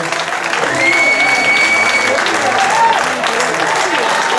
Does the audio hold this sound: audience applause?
yes